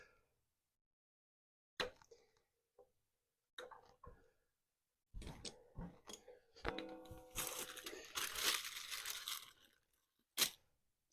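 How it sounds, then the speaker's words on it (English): Sharp cuts and crunching snips come as a fuel line is trimmed to length on an old Snapper chipper shredder, with isolated clicks first and then a denser burst of cutting and handling noises, close and alone. "So let's cut the fuel line to length."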